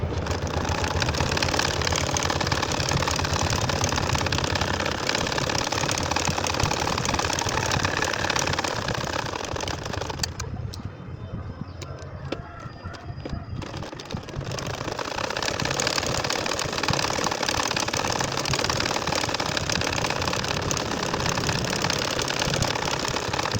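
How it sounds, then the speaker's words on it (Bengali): Machine stitching a line on a nakshi kantha quilt, a steady, loud, continuous mechanical whirring that dips briefly midway, then resumes at an even pace with no talking. "এখন আমি আরও একটা লাইন তোমাদের সেলাই করে দেখাবো"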